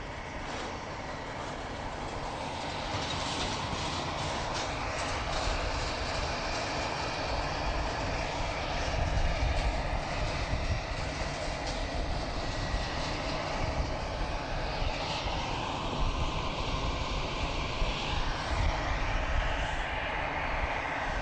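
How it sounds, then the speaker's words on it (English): An EasyJet airliner taxis past at Southend Airport before departing on runway 23, its engines giving a steady, distant whine and rumble that swells slightly midway and holds throughout, with no voices. "aircraft will be taxiing right past us in front here and then departing runway 23"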